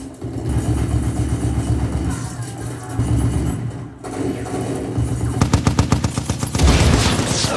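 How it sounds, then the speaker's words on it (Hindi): Machine-gun fire from a film soundtrack plays loud and close, with rapid rattling bursts building near the end over a dense rumble of engines and mixed action sounds. "मशीन गन कहाँ चल रही है?"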